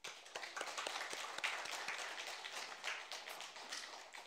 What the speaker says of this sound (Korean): 우리 하나님께 영광의 박수를 드리겠습니다